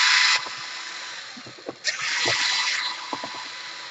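A power screwdriver whirs in short bursts while backing large screws out of a Sony VAIO laptop during a power-jack repair, with close mechanical buzzing, small clicks of parts, and pauses between runs.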